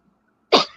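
A single sudden sneeze bursts out close to the microphone after near silence, sharp and loud before trailing off quickly.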